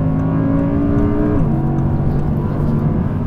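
An Audi R8 supercar engine roars up close, its pitch climbing hard, then dropping sharply at a gear change before pulling again.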